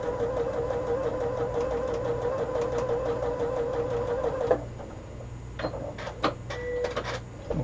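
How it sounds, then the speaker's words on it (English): A sewing machine chain-stitches quilt pieces for a Quilts of Valour block, humming in a fast steady whir up close for several seconds before stopping, followed by a few clicks and small handling sounds. "So this is my last one to chain stitch in here."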